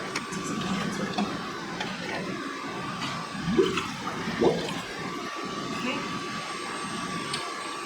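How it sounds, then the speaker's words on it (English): Weak water flow from a clogged filter on a 55-gallon planted aquarium: continuous soft rushing and trickling with a faint steady hum, a couple of gurgling bubbles midway. "Look how weak the water flow was too."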